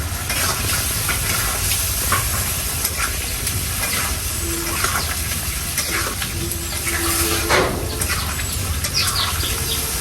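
A pickle cooks with sugar in a pan while it is stirred: a steady loud hiss and sizzle with occasional scraping strokes, close up and without speech.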